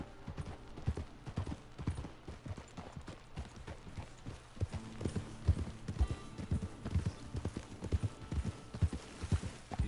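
Horse hooves clip-clop steadily in Red Dead Redemption 2, a rhythmic series of close, distinct hoof strikes that grows busier and louder midway, with a brief whinny hinted in the background.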